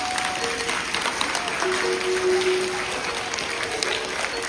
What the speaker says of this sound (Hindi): ठोको तालियां